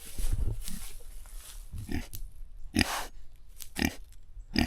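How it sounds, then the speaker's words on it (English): A pig grunting and snorting while being loaded into a cage on a farm, several close, low, irregular grunts alongside rustling movement. "If you know anything about pigs, they're not super easy at loading up because they just kind of do what they want"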